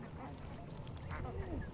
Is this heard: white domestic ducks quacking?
yes